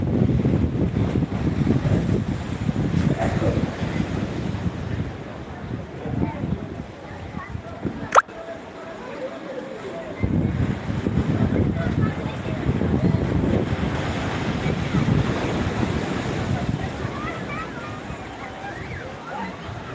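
Surf at high tide on Digha beach, a steady broadband wash of waves with wind buffeting the microphone, briefly dropping away midway before returning loud and continuous.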